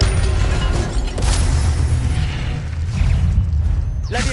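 An Incendio fire spell cast in Hogwarts Legacy on PS4 roars as one loud, sustained blast with a heavy low rumble. It holds steady for about four seconds, then ends in a brief, sharper flare.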